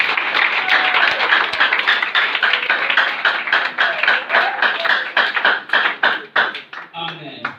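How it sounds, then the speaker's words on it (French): A church congregation at a Sunday service claps together in a sustained, loud round of applause, rhythmic and fairly even, fading into scattered claps at the end. "Acclamons pour la parole"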